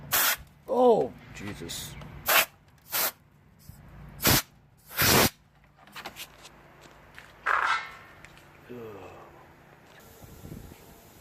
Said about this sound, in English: Gotta have an air compressor, I gotta tell you. Just blew everything out.